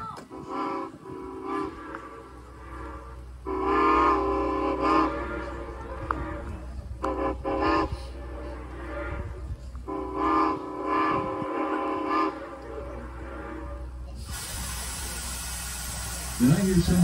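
A Strasburg Railroad steam locomotive 475 in Pennsylvania sounds its whistle in several long blasts, with steady rumbling between them and a burst of hiss near the end.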